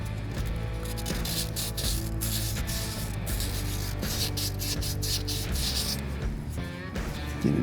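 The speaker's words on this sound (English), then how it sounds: "And take a little sandpaper." Sandpaper rubs back and forth in quick, even scratchy strokes, close and steady, while cleaning a surface during replacement of a sight glass, with no talking.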